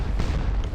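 Artillery battery firing in the Napoleonic battle game Scourge of War: Waterloo, heard as a dense, continuous low rumble of overlapping cannon booms with no clear gaps.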